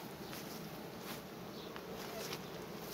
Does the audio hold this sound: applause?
no